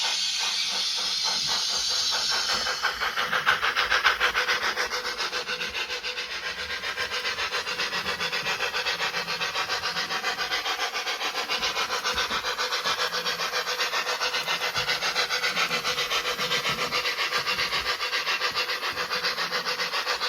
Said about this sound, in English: A little bit of noise from the motor